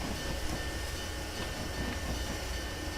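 Steady rumbling of a train running in the Railworks rail simulator game, a continuous broadband drone with low rolling rumble and no clear clatter, heard alone at constant loudness.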